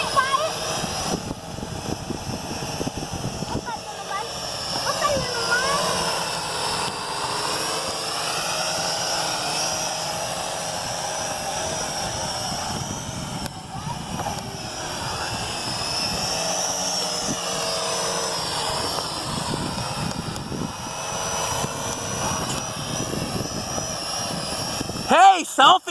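A Venom Pro GPS streaming drone hovers and flies nearby in a park, giving off a steady, wavering high-pitched buzzing whine that carries on throughout while people talk now and then.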